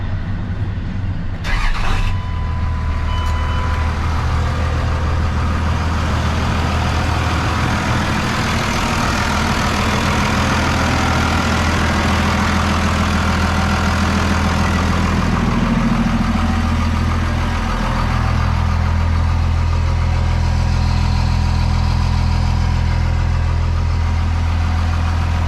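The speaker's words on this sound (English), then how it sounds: "But let's go ahead, start it up, and see if it's good to go." Second-generation Cummins diesel pickup truck, 1998–2002, its engine cranking and firing after a short starter whir, then settling into a loud, steady, low rumbling idle that runs unbroken for over twenty seconds.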